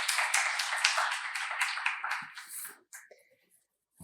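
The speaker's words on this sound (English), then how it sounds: "Please welcome Professor Athray with a big round of applause." An audience claps to welcome a professor to a lecture on the 2025 Nobel-winning economics research, a brisk round of applause that fades out within about three seconds and leaves a few scattered claps.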